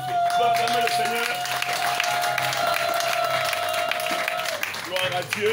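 A wedding congregation applauds at a church ceremony, with continuous crowd clapping and cheering under a sustained tone and some talk throughout.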